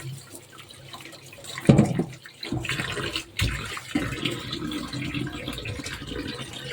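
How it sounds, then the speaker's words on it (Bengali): Water pours and splashes into a pan of potatoes, starting as a gentle trickle, then a louder gush with sloshing and intermittent bursts, close by with no talking. "আর একটু জল লাগবে, একটু জল দিয়ে চাপা দিয়ে দেব"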